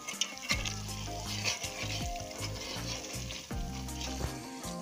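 Butter cream simmers into desi ghee in a pan on a low stove, giving a steady, close sizzle and soft bubbling over a low, even hum, with no talking.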